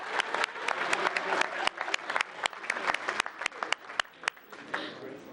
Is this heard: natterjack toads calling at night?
no